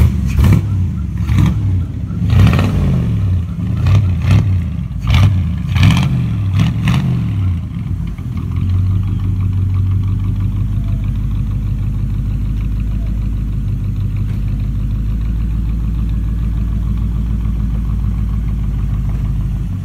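A 1967 Buick Special engine, just restarted after a timing advance, revs up close in several quick throttle blips during the first eight seconds. It then settles into a loud, steady, rumbling idle.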